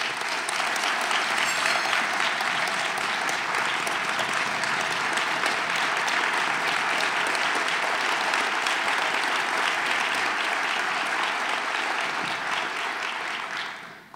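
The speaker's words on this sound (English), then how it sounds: "let's please give her a round of applause" A breakfast lecture-series audience applauds a speaker with loud, dense, continuous clapping that stays even for roughly fourteen seconds before cutting off abruptly.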